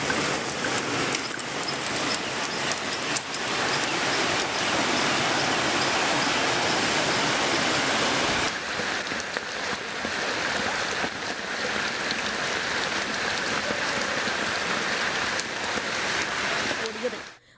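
Heavy overnight rain pours down while water runs through streets and roads, a loud, dense, steady hiss and rush that continues unbroken throughout.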